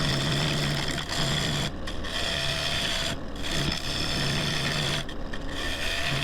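Freshly sharpened gouge cutting a splitsuarina wood bowl on a lathe, a steady rasping shear over the spinning motor's hum, broken by three brief pauses as the tool lifts off, fairly close and without talk.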